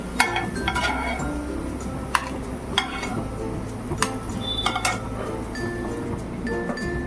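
Fried garlic and dried red chilli tipped from a pan into a mixing bowl for potol vorta, giving clinks and scrapes of utensil on dishware at scattered moments over a low kitchen background.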